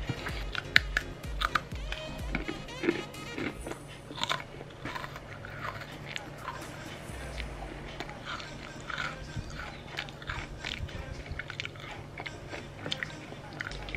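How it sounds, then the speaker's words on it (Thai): Someone wearing braces chews and bites chocolate Oreo cookies close up. Wet crunching and smacking bites repeat steadily for the whole stretch, with faint talk at times. "อันนี้พยายามที่จะเคี้ยวแล้วให้มันเห็นฟันนะครับ"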